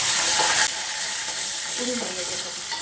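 Steady crackling sizzle of cumin, mustard seeds, garlic, chillies and curry leaves frying in hot oil, close and fairly loud, with a faint voice briefly underneath.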